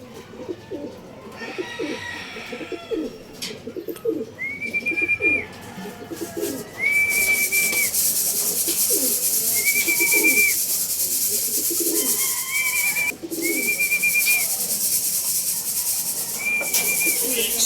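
Racing pigeons at a pigeon race, with repeated short, clear whistle-like calls recurring every couple of seconds over a steady background murmur, fairly close.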